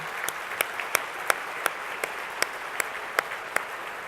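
A luncheon audience applauds in a steady, moderately loud wash of clapping, with sharp individual claps standing out at a fairly even pace, about three a second.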